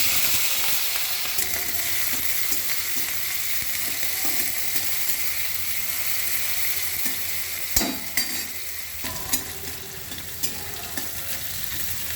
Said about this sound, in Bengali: আমি প্রথমেই চিংড়ি মাছগুলো ভেজে নিচ্ছি।